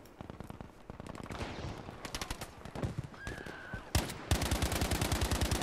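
Rapid gunfire in the shooter Battlefield V, bursts of automatic shots that start scattered and distant, then turn into a loud, close, steady stream of rounds near the end.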